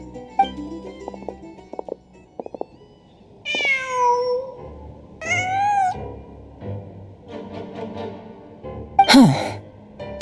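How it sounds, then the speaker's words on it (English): A cat in the Genshin Impact video game meows several times in clear, drawn-out cries, set against soft background game music and small incidental sounds. "Just a cat."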